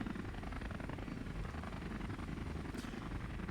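Helicopter in the video game Space Engineers flying low, a steady loud rotor chop and engine drone that fills the whole clip with no talk.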